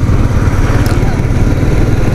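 Royal Enfield Meteor 350 motorcycle riding on a road near Baranagar, Kolkata, with a loud, steady low engine throb and rushing wind noise close by, continuous throughout.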